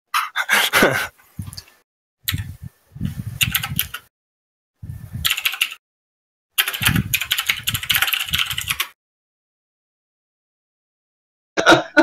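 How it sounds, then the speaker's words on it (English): Rapid bursts of typing on a computer keyboard, fingers rolled across the keys in quick clattering runs separated by pauses, close and fairly loud, with a longer silent gap before a final burst. "I just roll my fingers across the keyboards."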